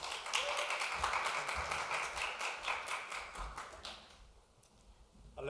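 Church congregation clapping to welcome the pastor to the front at a Korean service, a scattered, fairly dense round of hand claps that fades out near the end.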